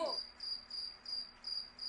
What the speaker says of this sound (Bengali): ঝিঝির ডাক, নদীর স্রোতের শব্দ আর মাঝে মধ্যে পাখির সুর